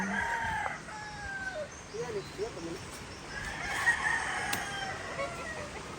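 A rooster crows among a flock of many chickens kept on farmland, the crow rising clearly over a steady background of clucking and ambient noise, with more fowl calls later.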